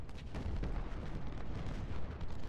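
Continuous rumbling barrage of artillery fire on a Civil War battlefield in Ultimate General: Civil War, a dense low roar of overlapping booms at steady moderate loudness with no speech.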